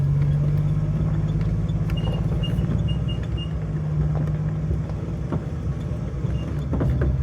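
A 1988 Jeep Wrangler Sahara driving in four-wheel drive, its engine a steady close drone with a low hum, plus occasional bumps and rattles over the terrain.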